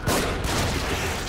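Burst of heavy gunfire in The Evil Within, several overlapping shots and booms packed into a loud, dense moment.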